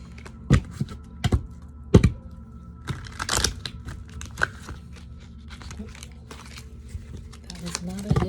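Tarot cards are shuffled by hand, with sharp riffling snaps and soft papery clicks in irregular bursts, close by.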